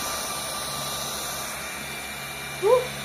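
A portable turbo fan at high speed whirs with a steady, even rushing hum throughout, and a short faint squeak-like sound appears near the end.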